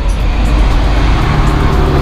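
Heavy vehicle rumble on a steep road with an 8 to 9 percent grade near Batangas City, a loud, close, continuous low roar of trucks passing with steady road noise.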